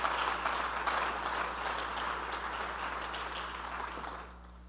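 A church congregation claps their hands together, a dense, steady burst of applause under a low hum that fades out at the end.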